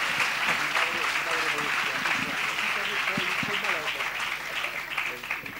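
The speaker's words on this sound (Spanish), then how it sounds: "si os parece, le recibimos con un aplauso por agradecimiento" Audience at a talk on church transformation clapping to welcome three guests, a dense, sustained round of applause that runs unbroken for several seconds in a hall.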